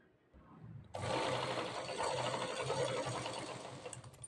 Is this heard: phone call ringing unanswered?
no